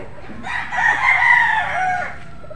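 A golden boy street breed rooster gives one loud, close crow lasting about two seconds, rising and then trailing off, over faint background noise.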